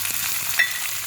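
Corn kernels frying on a tawa with salt and chili give a steady, close hiss and sizzle, with a small crackle partway through.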